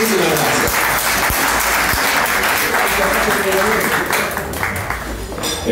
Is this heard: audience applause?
yes